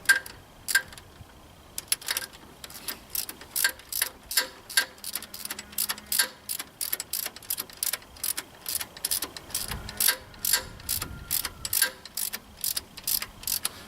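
A ratchet wrench clicks rapidly in steady bursts as a bolt with a lock nut is run in, probably during repair work on a John Deere 4105 compact tractor; the dense ratcheting is close and continues throughout without talk.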